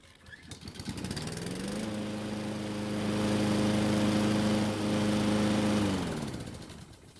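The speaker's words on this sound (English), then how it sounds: "Let's see how many pulls it takes to start back up." A hot Husqvarna lawn mower engine is pull-started after running for several minutes. A rough cranking stutter catches within about two seconds, then the engine settles into a steady, loud, close drone that swells slightly before easing off.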